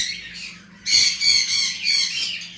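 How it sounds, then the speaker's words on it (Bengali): A pair of green Fischer's opaline lovebirds squawks in harsh, close, repeated bursts, with a quieter call first and then a loud run of shrill squawks. "আমাদের কাছে গ্রিন ফিশার অপালাইন লাভবার্ড রয়েছে একটা পেয়ার"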